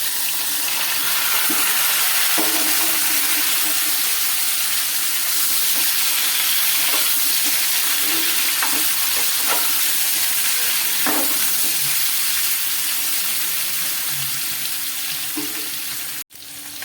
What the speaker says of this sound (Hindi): टिके कठा को हल्का भाजी देबा।